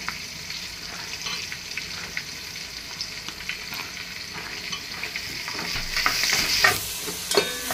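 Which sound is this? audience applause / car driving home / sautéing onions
sautéing onions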